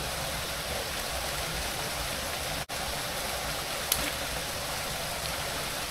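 Rain falls steadily at a forest campsite, an even, dense hiss that holds constant from start to finish with no talking.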